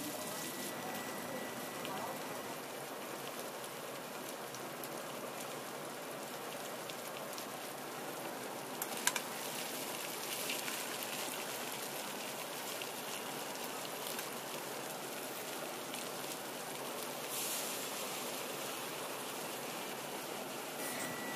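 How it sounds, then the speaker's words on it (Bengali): Potatoes, chopped onion and chillies fry together in a pan, giving a steady, close, continuous sizzle that runs unbroken for the whole stretch, with a voice speaking over it. "এবার আলু, পেঁয়াজ কুচি ও মরিচগুলোকে খুব ভালো মতো একসাথে ভেজে নেব।"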